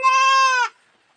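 A goat on a goat farm lets out one loud, clear bleat lasting well over half a second, close to the microphone, then cuts off into near silence.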